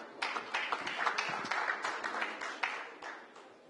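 An audience claps to welcome a speaker on stage at a FADA event in Delhi, with steady, moderately loud applause from a crowd throughout.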